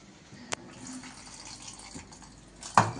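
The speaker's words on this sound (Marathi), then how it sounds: "2 पाण्याने धुवून घेते आता।" Raw sago pearls are washed in water in a kitchen, with a quiet continuous watery swishing and a couple of sharp splashes or knocks, one near the start and a louder one near the end.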